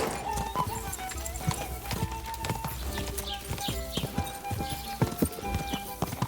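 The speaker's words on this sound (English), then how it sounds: "My horse just doesn't go that fast." Horse hooves gallop in Kingdom Come: Deliverance II, a rapid, close clip-clop rhythm throughout.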